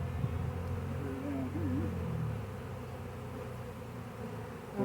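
A honey bee swarm being shaken from a brush into a box at a ball field gives a dense, continuous low buzzing drone that holds steady throughout, with no speech over it.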